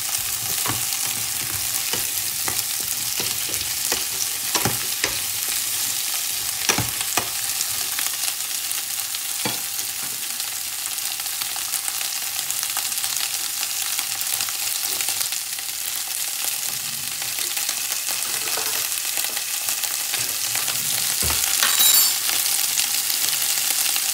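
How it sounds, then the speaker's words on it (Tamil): Capsicum sizzling steadily in hot oil in a pan while being stirred for a prawn curry, with a continuous loud hiss and repeated sharp scrapes and clinks of the spoon against the pan throughout. "குடமிளகாயம் போட்டு தாளிக்கிறேன்."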